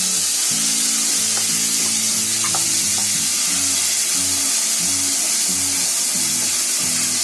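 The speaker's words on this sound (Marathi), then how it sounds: "आता मी त्याच्यामध्ये कांदा टाकायच्या आधी आहे ना गॅस बारीक केलाय आणि त्याच्यामध्ये कांदा टाकते" Onion paste hits hot oil for bhuna chicken, giving a loud, continuous frying sizzle with low background music running underneath.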